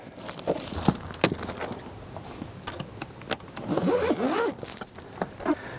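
A travel bag is zipped closed while packing for the Hajj, with repeated quick zipper pulls and rasps, close and loud, alongside some rustling and handling noises.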